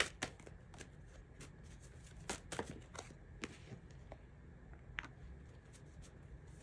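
Tarot cards being shuffled by hand, soft close riffling and slapping of the deck in quick irregular bursts over a quiet room, no speech.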